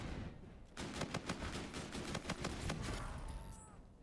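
Rapid gunfire from a pistol and a submachine gun in a Call of Duty match, a dense burst of sharp shots in quick succession that trails off toward the end, with no talking.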